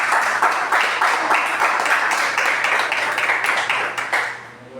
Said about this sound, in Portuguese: Dá uma salva de palmas de vitória, bem alegre para Jesus.